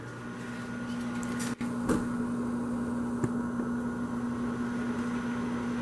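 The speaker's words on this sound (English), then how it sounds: "And I'm just nuke this in the microwave." A microwave oven runs with a steady electrical hum and whir in a home kitchen, interrupted by a brief click and a couple of faint knocks, with no talking.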